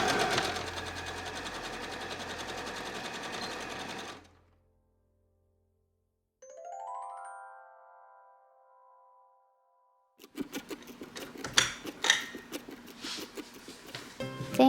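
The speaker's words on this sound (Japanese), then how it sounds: "前後ペプラムの脇を縫おう。" A sewing machine stitches the side seams of the front and back peplum on a patchwork garment remake. It runs loud and steady for about four seconds, then stops; after a pause come faint tones and a run of clattering knocks.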